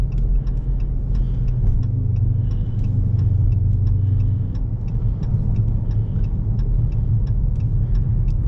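A Dodge Charger RT cruises along the road, heard from inside as a constant deep engine and road rumble with a faint, regular ticking running over it.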